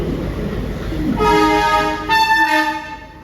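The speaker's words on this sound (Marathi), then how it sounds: "फायनली बघा रेल्वे आली मस्तपैकी पण ती एकदम हळूहळू येते" A slow freight train approaching, with a loud rumble and a long blaring horn that swells and holds for a couple of seconds, close by.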